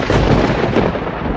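Thunder rumbling during unseasonal rain, a loud, continuous low roar that fills the whole stretch without a break.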